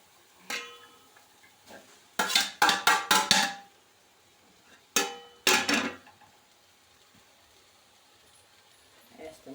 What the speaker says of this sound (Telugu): ఇప్పుడు రైస్ని ఆ గిన్నెలోకి అయితే వేస్తుంది.